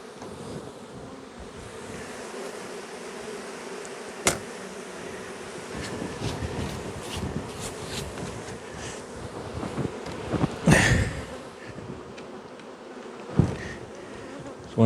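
Dense, steady buzzing of many honey bees around an open hive during a honey flow, a continuous close drone with a few sharp knocks and clatters from hive equipment and no talk.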